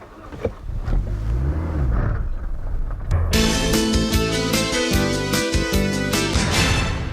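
A Peugeot 206 GTI hatchback drives past with a steady engine note, then a bright, dense layer of music comes in over the car sound for the rest of the stretch, loud throughout.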